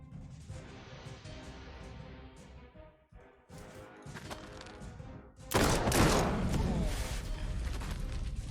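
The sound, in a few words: gunfire in a World War II strategy video game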